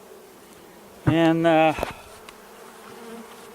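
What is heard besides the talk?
honeybees buzzing at hive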